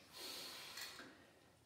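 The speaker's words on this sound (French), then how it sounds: "On inspire pleinement par le nez et on expire par la bouche" Deep breathing during a relaxing neck-pain exercise routine: a slow, audible breath drawn through the nose and released through the mouth, close and airy, heard alone.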